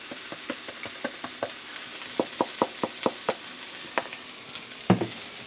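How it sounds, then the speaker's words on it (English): Two beef hot dogs and onions with taco seasoning cook on a hot surface, a steady sizzle broken by a quick series of sharp scraping and tapping hits from a spatula. "we're going to cook up the onions with some taco seasoning"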